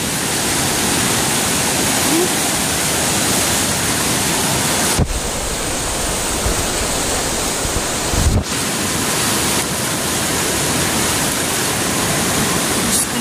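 Floodwater rushes loudly and continuously, a dense roaring wash close to the microphone with two brief bumps of wind or handling noise partway through.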